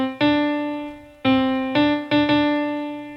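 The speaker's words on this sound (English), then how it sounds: "Then we're going to skip a note, so it's going to sound like this." Clear sustained tones, likely piano, play a musical interval that skips a note, sounded as four separate strikes that each ring out and decay, alone with no talk.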